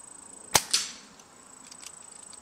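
An air rifle fires a Terminator pellet: one sharp, close crack followed quickly by a second impact snap, then quiet with a steady high electronic whine in the background.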